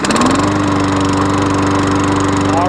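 A Toro Recycler lawn mower with a roughly 2005 Tecumseh engine catches and runs, its steady, loud engine drone holding close by with no talk over it.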